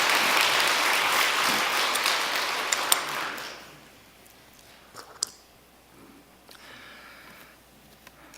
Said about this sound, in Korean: 우리 시온 대원들을 위해서 오늘도 다시 한번 박수 부탁드립니다